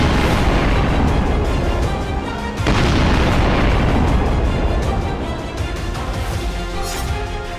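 A huge 18,000 kg bomb dropped from a warship explodes in the sea, giving a loud, sustained roaring boom with a heavy churning rumble that carries on throughout without easing.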